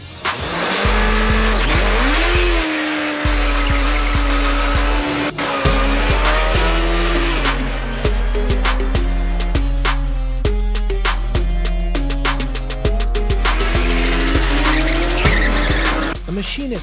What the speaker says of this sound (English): The T-Rex is a machine with Formula One performance packed into a street legal testosterone charged street racer.